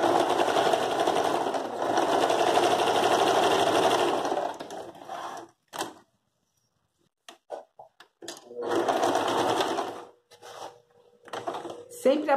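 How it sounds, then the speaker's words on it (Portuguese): A sewing machine stitches a rug made from old denim jeans, a dense motorized whir that runs for several seconds, stops, then starts again in short bursts, with no talk over it. "Passar aqui um pezinho de máquina."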